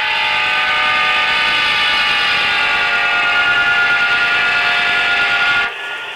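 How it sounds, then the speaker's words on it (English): A loud, sustained steam-style horn from an HO-scale model steam locomotive, with layered tones, blows for several seconds, its pitch sliding from a Doppler effect as if passing, before cutting off abruptly to a low hiss. "The horn has Doppler effect on it to make it sound like the thing is passing by you."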